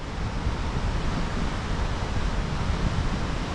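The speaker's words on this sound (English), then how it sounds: "Big creek comes out of a hole in the hill." Water of a large creek rushes out of a hole in a hillside in the New Zealand wild, a steady, dense, close roar that never lets up and carries no talk.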